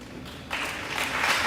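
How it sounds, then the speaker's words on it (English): Applause from a crowd in a high school junior varsity basketball gym rises after a quiet moment and carries on, steady and moderately loud, with a faint voice underneath. "Nice round of applause"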